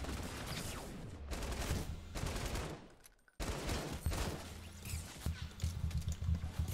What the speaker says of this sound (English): I don't know where they're firing from.